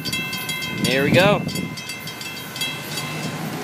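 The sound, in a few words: FEC freight train passing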